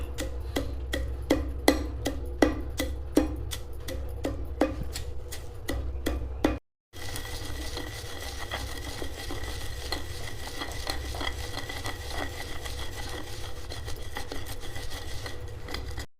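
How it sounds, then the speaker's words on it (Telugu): Pounding sesame chutney with rock salt in a stone mortar: sharp rhythmic thuds repeat for several seconds, a short gap follows, then softer, steady grinding and scraping continues close by. "1 స్పూను కల్లులు ఉప్పు వేసుకొని మంచిగా దంచుకోవాలి."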